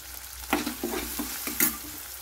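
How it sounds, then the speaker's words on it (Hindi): Spices and boiled samosa filling frying in a pan with coriander powder, garam masala and salt, giving a steady close sizzle broken by a few louder stirring scrapes. "अब साथ में मैं मसाले डाल रही हूँ, धनिया पाउडर, गरम मसाला,"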